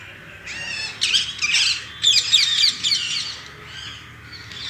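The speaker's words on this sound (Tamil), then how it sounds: "பறவைகளுடைய சத்தத்தை வந்து நீங்கள் கேட்குறது ஒரு பெரிய ஒரு சுகமான ஒரு விஷயம்" Several birds chirp and call in a garden in quick bright bursts, close and clear, against a quiet outdoor background.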